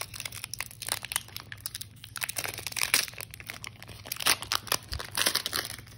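Scissors cut through the foil wrapper of a Pokemon card pack, with close crinkling, tearing and crunching of the plastic in irregular bursts and small snips, with no voice over it.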